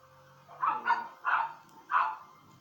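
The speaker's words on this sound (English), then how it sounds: "if you can hear my dogs barking" Three sharp dog barks, spaced about half a second apart, fairly close and distinct against a quiet background.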